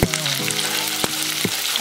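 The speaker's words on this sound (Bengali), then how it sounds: "তেল গরম হয়ে গেছে ফোড়নের ফোড়নের মশলা সব ভেজে গেছে ভাজা হয়ে গেছে এবার আমি আলু দিলাম" Potatoes and whole tempering spices fry loudly in hot oil, a steady close sizzle with a few sharp clatters of a spoon or pan, no voices.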